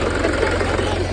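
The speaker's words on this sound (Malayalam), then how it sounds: "ട്രാക്ടർ പോവാണ്." A tractor rumbles past near a fishing spot, a steady low engine drone with a knocking idle texture, close and loud throughout.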